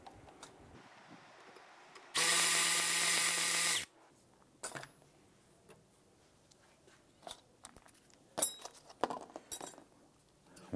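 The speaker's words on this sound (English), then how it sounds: "Then we're gonna go ahead and loosen and remove those bolts." A 14 mm brake caliper bolt on a 2012-2017 Toyota Camry is loosened with a power tool in one loud, harsh burst of under two seconds. Scattered metallic clinks and rattles of parts being handled follow.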